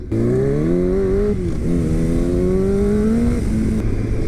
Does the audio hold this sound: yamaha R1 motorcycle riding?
yes